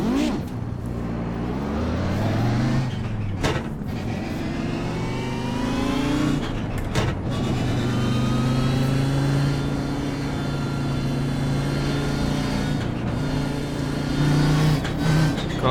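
A race car engine in the iRacing simulator revs and climbs through the gears, with sharp shift breaks and a steady loud drone, while someone talks occasionally over it.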